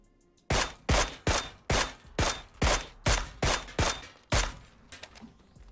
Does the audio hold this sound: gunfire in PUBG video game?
yes